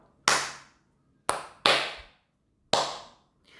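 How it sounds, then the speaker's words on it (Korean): A teacher claps a rhythm: four sharp, close hand claps with uneven spacing, the longer gap falling before the second clap, then a clean decay into silence. "여러분 선생님 박수로 쳐볼 테니까 다시 한번 들어보세요."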